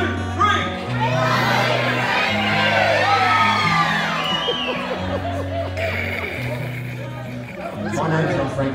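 A live concert crowd at a beach hotel yells and screams together on cue, a dense wash of voices and cheers that holds for several seconds over a steady band backing.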